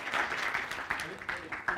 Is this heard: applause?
yes